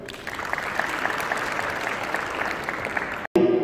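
An audience at a Pakistan Day event gives sustained, dense applause of many hands clapping at once, then cuts off briefly before a person starts speaking.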